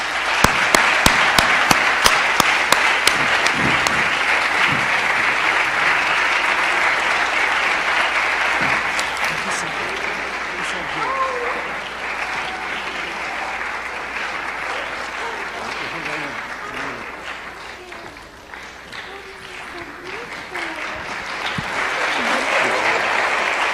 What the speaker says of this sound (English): very warm applause, please.